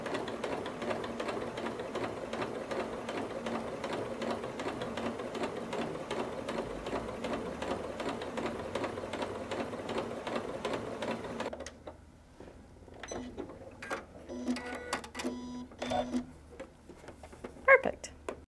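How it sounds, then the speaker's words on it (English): A sewing machine topstitching around a fabric Christmas stocking runs in a fast, even, steady whir for about eleven seconds, then stops, followed by quieter handling noises and small clicks. "Now I'm going to bring it to the sewing machine and top stitch around the whole thing."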